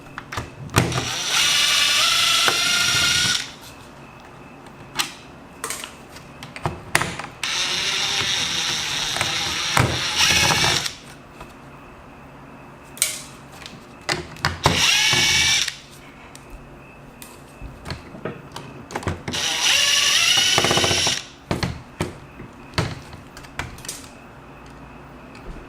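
Power screwdriver driving out the many screws of a Dell XPS L702X laptop's top cover, whirring in several loud bursts of a few seconds each, separated by quieter handling clicks.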